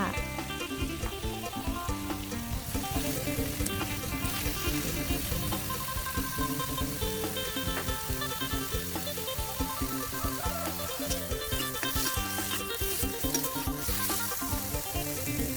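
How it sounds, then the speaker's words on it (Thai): Pork and Thai curry paste cook in a pot of boiling water for a northeastern Thai curry, giving a steady bubbling, sizzling wash with faint stirring clatter and no talk. "พอน้ำเดือดนะคะ เราก็จะเอาส่วนผสมที่เป็นเนื้อสัตว์นะคะ ลงไปก่อน พร้อมกับเครื่องแกงค่ะ"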